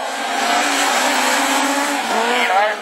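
Super 1600 rallycross race cars at a French championship round slide on track with loud, continuous engine roar and tyre noise, up close, while a commentator talks over it.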